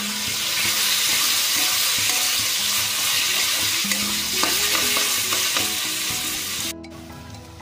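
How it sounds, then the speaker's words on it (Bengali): Onion, green chilli, tomato and spice masala frying in a pan, a loud continuous sizzle with frequent scraping stir strokes throughout, ending with a brief clink. "মশলাটা ভেজে নিয়েছি"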